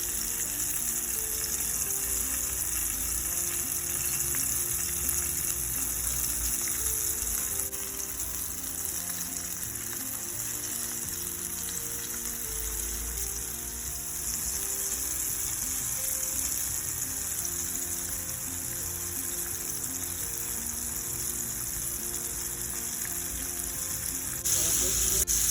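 Chicken pieces frying in oil in a frying pan on a stove top, giving a steady broadband sizzle that holds for the full length with small dips in level.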